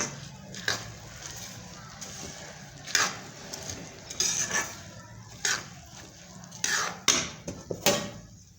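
Murmura ladoo mixture of puffed rice being mixed in a metal pot, irregular clanks and scrapes of a spoon against the pot at close range, fairly quiet between the sharper knocks.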